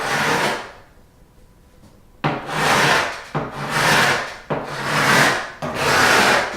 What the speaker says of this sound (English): how's the scraping coming along?